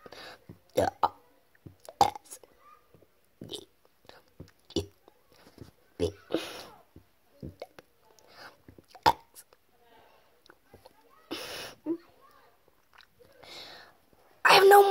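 Burps produced while reciting the alphabet, with a string of short, abrupt bursts spread irregularly across the stretch, some louder than others, with quiet gaps and mouth sounds between them.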